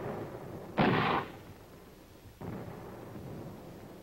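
Artillery fire from a nuclear test film: a single loud, sharp boom with a short roaring tail, followed about a second and a half later by a fainter distant thud rolling under background hiss.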